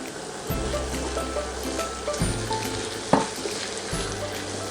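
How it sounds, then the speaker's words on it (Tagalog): Canned mushrooms sautéing in a pan give a steady, close sizzle and crackle, with a few soft stirring scrapes and a brief clink partway through; no voices. "continue lang natin ang paggisa"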